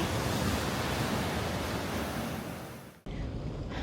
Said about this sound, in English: Waves are very strong.